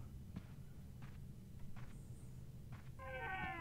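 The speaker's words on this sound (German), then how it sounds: "Jetzt kommt nämlich noch seine blöde Katze mit dazu." A cat in the Harry Potter video game meows once near the end, a short rising cry after quiet ambience and a few soft taps.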